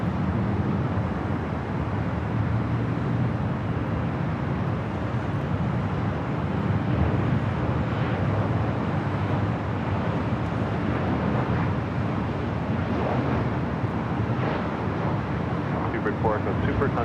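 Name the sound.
British Airways Airbus A380 taking off at LAX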